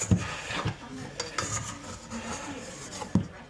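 A dough scraper drags and rubs across a work surface, gathering sticky homemade condensed milk bread dough into a ball, with repeated close rasping strokes and a couple of sharper knocks.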